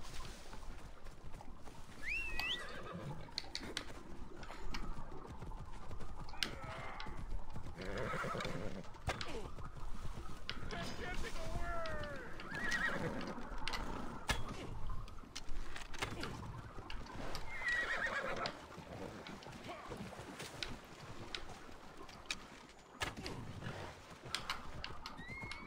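A horse in Assassin's Creed Odyssey neighs and whinnies several times over steady clip-clopping hooves. Someone speaks intermittently over it, alongside game music and ambient effects.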